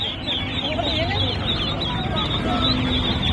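Ducks and geese at a poultry market, honking and squawking in a dense, continuous chorus, with market chatter and voices mixed in throughout.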